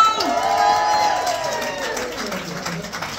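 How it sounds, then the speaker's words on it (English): A comedy club audience applauds and cheers for a comedian after his set. The clapping and crowd noise are a loud, continuous wash that slowly fades, with the host's voice carrying over it. "Give it up for Alex Mitchell"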